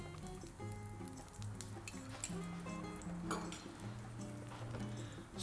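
Onions and peppers sizzling in hot oil in a pan, a steady close frying hiss with occasional light clinks of utensils against cookware, no talk.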